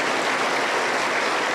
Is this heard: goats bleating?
no